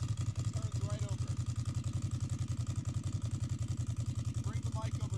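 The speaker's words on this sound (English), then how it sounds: "You can hear that dry clutch." A 2006 Ducati Monster S2R idles close by with a steady, loping pulse and a continuous dry-clutch rattle layered over the engine beat, with no talk.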